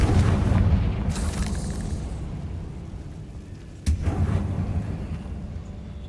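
A Confringo blasting spell in Hogwarts Legacy sets off a deep rumbling explosion at the start, then a second sudden booming blast a few seconds later, each decaying into a low roar.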